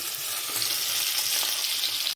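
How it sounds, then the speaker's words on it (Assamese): Small young bhangan fish fry in hot oil in a pan, giving a steady, close sizzling hiss that holds evenly throughout with no talking. "এইখিনি ভাজি আছোঁ"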